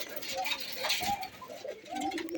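Domestic pigeons coo softly nearby in a few low, rolling phrases spread over a couple of seconds against a quiet background.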